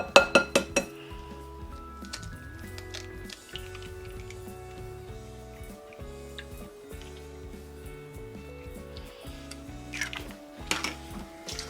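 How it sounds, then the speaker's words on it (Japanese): Four eggs are cracked and separated into whites and yolks in bowls for a chiffon cake. A burst of sharp clinks at the start gives way to faint scattered taps and clinks against the dishes. "卵4個は卵白と卵黄に分けます。"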